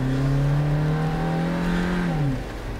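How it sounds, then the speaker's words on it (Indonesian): A Suzuki Jimny 5-door accelerates hard from standstill with full kick-down on an offroad trek, its engine droning loudly and rising slowly in pitch before dropping off near the end. "Mobil kita akan coba gas dari posisi diam."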